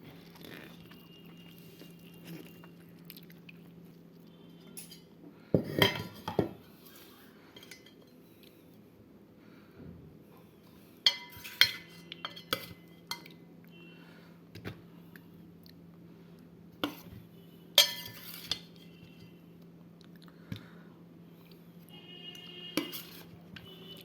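Someone eats a lunch of fish, greens and potatoes from a plate in a quiet room: sparse clinks and scrapes of utensils on the plate, a few sharper knocks, long hushed gaps between them.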